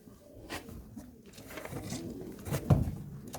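Pigeons coo softly in a low, throaty burble, with a few murmuring calls and a louder coo near the end, close by amid light rustling.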